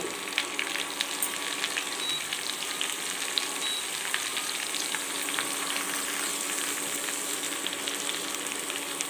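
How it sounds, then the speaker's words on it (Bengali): Panch phoron and fennel seeds frying in hot oil for a sweet-sour mango pickle, giving a dense, continuous crackling sizzle close by, with no talking. "এটা এবার একটু আমি ভেজে নেব।"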